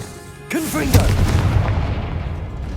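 Confringo fire-blast spell in Hogwarts Legacy, a sudden loud boom that strikes after a short quiet lead-in and rolls on as a rumbling explosion, with a voice over the start.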